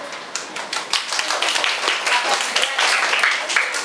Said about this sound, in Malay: Okey, berikan tepukan.